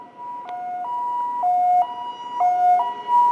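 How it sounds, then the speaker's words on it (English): A Taiwanese ambulance siren wails in a two-tone hi-lo pattern, alternating steadily and fairly loud, nearby with no talking. "Taiwan ambulance."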